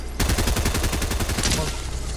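Rapid automatic gunshots in a video game, a loud, evenly spaced burst of about a dozen shots lasting just over a second before trailing off.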